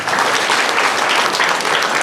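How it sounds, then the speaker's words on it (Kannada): An audience clapping at a charity event for students, dense and steady, close and loud for a couple of seconds. "ಚಪ್ಪಾಳೆ."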